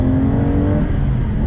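An Aston Martin DBS engine revs hard under acceleration on a Scottish driving road, a loud, steady, close-up roar from inside the car with no talk over it.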